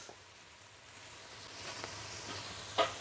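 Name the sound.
tomatoes with garlic and ginger paste sautéing for duck biryani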